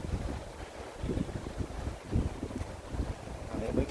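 Gusty wind blowing through a vegetable garden with dahlias, peas and sprouts, a steady loud rumble with microphone buffeting and rising and falling gusts.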